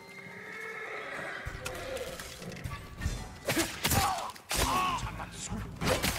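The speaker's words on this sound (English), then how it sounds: "They're samurai horses." Horses neigh and whinny loudly at samurai stables in Ghost of Tsushima, with shuffling hooves and occasional crashing thuds over a quieter ambient bed that builds toward the end.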